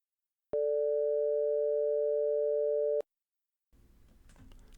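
Generated audio tone with threshold compression applied, a pure steady hum held for about two and a half seconds and then cut off abruptly, followed by silence and a faint rustle.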